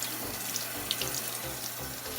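Warm water runs from a sink tap in a steady, soft splashing stream, faint and close, with no voices.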